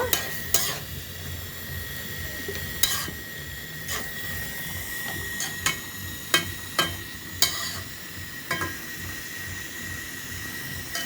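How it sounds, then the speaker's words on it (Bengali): Whole spices (two cardamom pods, two cinnamon sticks and cloves) stirred and frying in hot oil in a pan, with a steady low sizzle broken by repeated sharp scraping and clinking strokes of a spoon against the pan. "এখন নাড়াচাড়া করছি"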